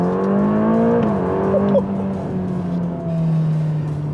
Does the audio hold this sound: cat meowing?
no